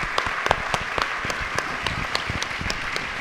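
Audience applause at a talk in Vittorio Veneto, a steady wash of many hands clapping, moderately loud and continuous with a few sharper individual claps standing out, no voices over it.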